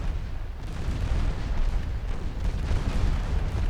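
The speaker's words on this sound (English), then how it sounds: "J-48s are doing decent work with their guns" Naval guns on warships firing in a 1954 Norwegian campaign naval battle game, a dense continuous rumble of booming shots and explosions running throughout without clear individual gaps.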